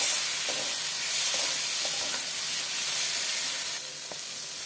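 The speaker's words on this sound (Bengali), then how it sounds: "চিংড়ি মাছটাকে একটু কষিয়ে নেব মশলা।" Large golda prawns sizzle and fry in a cooked-down spice masala in a pan, a steady close hiss with a few soft stirring knocks and no talking.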